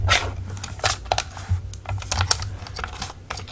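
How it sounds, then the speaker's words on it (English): A small Fiskars paper cutter trims a straight edge on paper, giving a series of quick, crisp clicking and slicing strokes, close up and at moderate volume. "let me just run this through my tiny Fiskars cutter to get a straight edge on it."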